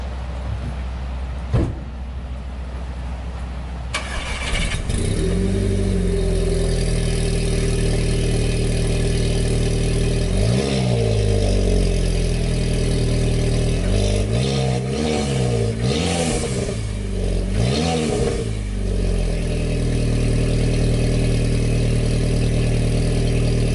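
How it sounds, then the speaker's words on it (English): Cold start of a car engine fitted with a downpipe, blow-off valve and turbo muffler delete, cranking after a quiet moment then settling into a loud, steady idle with several sharp revs partway through. "installed a downpipe blow-off valve, turbo muffler delete, and then I need to get it tuned still, but let's listen to the cold start"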